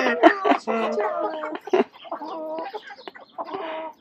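Hens cluck and chatter close by at a farm stop in Apache Junction, Arizona, a run of short, pitched calls with a few louder squawks and no rooster crowing.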